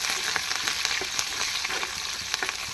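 Onion fries in a pan for lemon rice, giving a dense, steady sizzle with small crackles and light stirring taps, close and fairly loud throughout.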